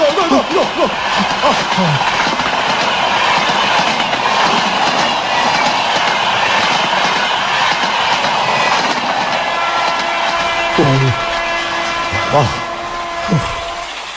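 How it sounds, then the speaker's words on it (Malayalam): A steady rolling rumble and rhythmic rail clatter from a train passing along the tracks at a lonely station, a radio drama sound effect, loud and continuous throughout, with several brief squealing tones near the end. "ആ വണ്ടിയും കടന്നുപോയി."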